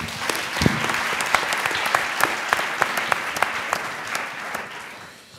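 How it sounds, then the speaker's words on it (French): An audience at an eloquence contest final applauds warmly, a dense sustained clapping from a crowd, with a few sharper nearby claps standing out and fading slightly at the end. "on l'applaudit encore très fort"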